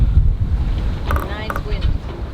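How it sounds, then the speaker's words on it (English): Rough wind noise buffets the microphone on a sailboat during a night sail, with low rumbling gusts and water movement, and a brief voice breaking in partway through. "Nice wind."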